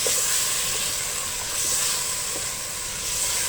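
Meat added to hot masala in a pan, giving a loud, continuous bright hiss of sizzling that holds steady throughout, with a few faint clicks underneath.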